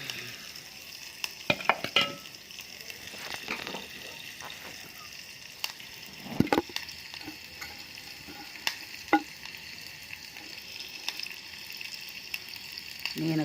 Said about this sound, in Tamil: கோஸாக்கி கீரை பொரியல்.